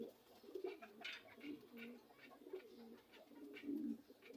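Pigeons of a new adult pair kept by a seller coo in low, repeated rounded phrases at close range, with faint chirps above and a hint of distant voices.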